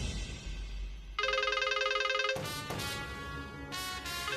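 A telephone rings in a Tamil TV serial scene, its electronic ringtone entering suddenly as a steady, bright repeating tone pattern over a quiet background.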